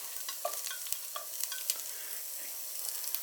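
Chopped onions and garlic cloves beginning to sizzle in a pot for an Irish lamb stew, a quiet steady frying hiss with small pops and faint scraping, no talking.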